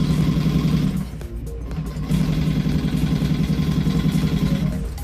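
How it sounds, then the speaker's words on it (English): A sewing machine runs with a steady, rapid mechanical whir close by, pauses briefly, then starts up again and keeps going. "Yeah, it's a sewing machine."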